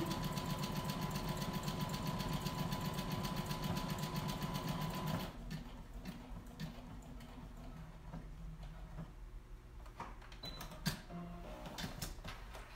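Sewing machine stitching a pillow in gray fabric, running steadily and loud with rapid mechanical chatter for about five seconds, then stopping, leaving quieter handling noises and light clicks.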